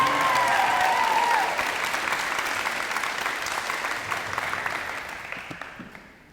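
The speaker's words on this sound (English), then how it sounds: "round of applause for Hardin-Simmons University Cowboy" An audience at a high school letter-of-intent signing for a Hardin-Simmons University athlete bursts into loud, dense applause that holds steady, then gradually thins and fades out.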